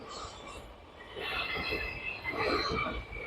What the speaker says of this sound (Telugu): ట్రైన్ అయితే చాలా ఫాస్ట్గా వెళ్ళిపోతుంది